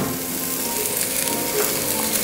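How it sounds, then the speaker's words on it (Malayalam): Coconut pieces go into a pan of softened onions for a soya chunk roast, giving a close, continuous sizzle with faint stirring and no talk. "ഇനി നമുക്ക് ഇതിലേക്ക് ഒരു 1/2 കപ്പ് തേങ്ങാക്കൊത്ത് ഇട്ട് കൊടുക്കാം"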